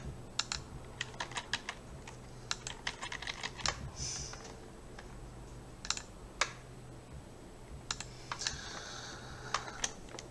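Computer keyboard keys are pressed repeatedly, including Ctrl+Z, while editing text in GIMP. Scattered quiet clicks come in short bursts and single taps, close by, with no talking.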